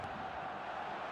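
A near-capacity stadium crowd roars in the eFootball video game, a steady, distant wash of massed voices with no distinct shouts.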